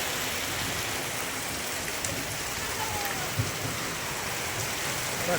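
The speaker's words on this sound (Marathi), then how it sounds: "लयच पाऊस पडतो" Heavy rain pours in a dense, steady hiss, drumming continuously on surfaces nearby with no break.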